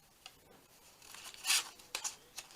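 Scissors cut through paper with a few short, crisp snips, close and fairly quiet, with one louder slicing cut in the middle and a couple of lighter snips after it.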